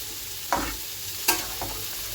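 Papaya pieces being sautéed and stirred in a pan before water is added: a few soft scrapes and sizzling stirs spaced about a second apart, faint and close, with no talking.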